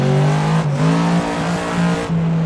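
A Ford Mustang GT engine in the racing game Assetto Corsa: a loud, steady drone that dips and climbs through several quick shifts while the car cruises.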